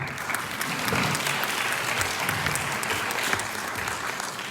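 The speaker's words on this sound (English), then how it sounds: "We deserve a big applause for that." Audience at a fundraising gala night applauding, a sustained wash of clapping from a large room that swells briefly and stays fairly even throughout.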